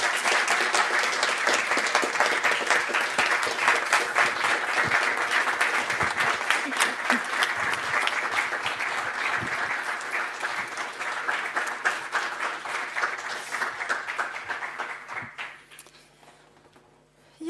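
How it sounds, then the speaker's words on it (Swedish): A Swedish student-evening audience gives warm, sustained applause for guests Joakim Lamotte and Ann Heberlein, dense clapping filling the room at steady loudness before fading out near the end. "vill jag be er ge en varm applåd till Joakim Lamotte och Ann"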